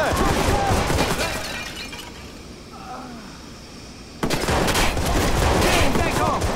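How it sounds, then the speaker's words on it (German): Rapid bursts of Watch Dogs gunfire crackle loudly, drop to a quieter lull, then resume abruptly with dense shots and shouting German voices. "Da schießt einer! Auf mich wird gerade geschossen!"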